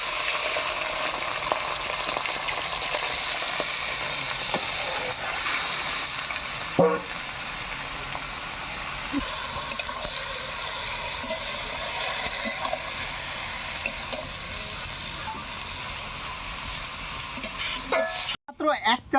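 Goat tripe frying in a village-style bay leaf tempering, giving a steady broad sizzle throughout with a few faint clinks and stirring scrapes, ending in a brief clatter.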